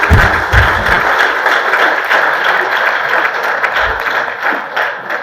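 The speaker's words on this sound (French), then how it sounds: "Sous vos applaudissements," An audience applauds an ambassador at a ceremony, a dense, loud wash of clapping that holds steady throughout and eases slightly toward the end.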